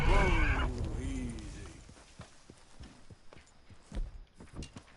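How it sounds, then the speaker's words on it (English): A golden Palomino Tennessee Walker horse in Red Dead Redemption 2 walks with soft, irregular hoof clops at close range, following a spoken voice at the start and continuing quietly alone. "Aren't you a pretty horse?"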